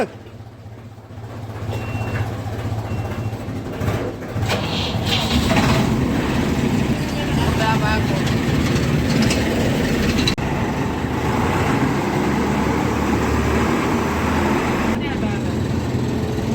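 A heavy engine, started using three batteries, rumbles steadily and loudly throughout, with people talking over the mechanical drone.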